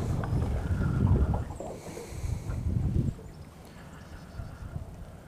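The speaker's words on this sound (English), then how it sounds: "The wind was tough today." Gusty outdoor wind buffets the microphone in low, rumbling surges that are strongest early on and ease off toward the end.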